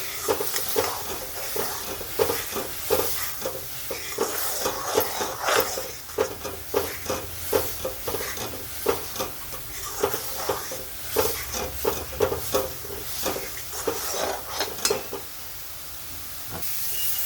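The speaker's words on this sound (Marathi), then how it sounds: "कांदा लसूण मसाला धने पावडर आता याला पण आपण चांगलं परतून घेऊ" Onion, garlic masala and coriander powder sautéing in a pan for dhaba-style masala bhindi, a loud steady sizzle and hiss broken by rhythmic spatula scrapes and stirring strokes throughout, with no speech.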